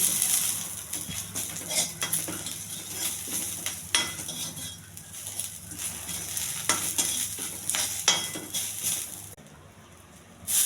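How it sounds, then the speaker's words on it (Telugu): Chana dal, cumin and dried red chillies frying in a pan, a continuous close crackling sizzle broken by repeated metal scrapes and taps of a spoon stirring, fading near the end. "శనగపప్పు, కొంచెం జీలకర్ర, ఎండుమిర్చి అండి, కొంచెం దోరగా ఎగర్చాలి."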